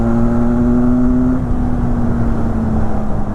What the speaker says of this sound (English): this motorcycle, in this stock exhaust also, it has a lot of grunt